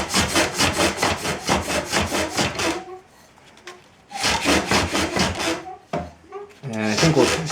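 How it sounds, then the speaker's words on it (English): Fine 180-grit sandpaper rubs against a wooden workpiece spinning on a German pole lathe, giving rhythmic rasping bursts in back-and-forth strokes that pause briefly midway and then resume, loud and close. "I'm just finishing up the final sanding here with 180 grit."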